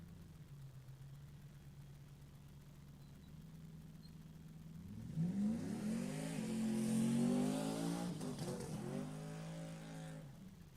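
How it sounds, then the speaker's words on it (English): A drag race car on radial tires does a long burnout, starting with a steady idle, then climbing to a loud, sustained high rev with rising engine pitch before it eases off near the end. "I love a good long burnout, but it's got radials on it, so there's no smoke"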